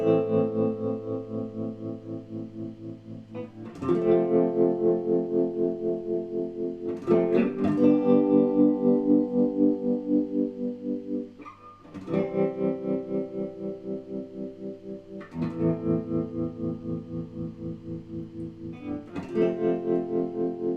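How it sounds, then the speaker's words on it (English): Electric guitar run through a sine-wave tremolo pedal on a pedalboard, set to its default, a smooth amp-style Vox-like pulsing volume. Repeated chords swell and fade in a steady rhythm, played alone and fairly loud. "This is a sine wave tremolo, quite similar to the amp tremolo that you get in the Vox."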